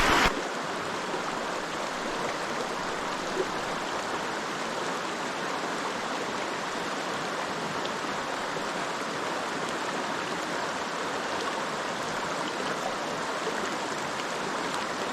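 A Smoky Mountains stream rushes steadily over rocks, a dense, even wash of flowing water close by that holds constant throughout with no voices.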